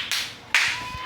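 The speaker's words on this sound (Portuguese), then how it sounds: "Mas obrigada pelas palmas forçadas." A couple of sparse, quiet hand claps of forced applause in a home setting, two short isolated slaps spaced about half a second apart.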